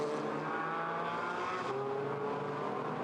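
GT race cars at the Zhuhai circuit during an SRO GT Cup race, engines roaring loudly and continuously as the cars pass close by on the track, with a change in engine pitch midway.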